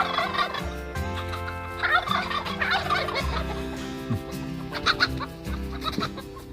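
Several turkeys gobble outdoors in a loud, rippling chorus, with repeated bursts overlapping one another throughout, mixed with clucking from nearby chickens.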